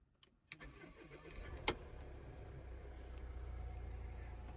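A Volvo XC60 engine starts with a short starter crank and catch, then settles into a steady, close idle hum that continues to the end; no one speaks.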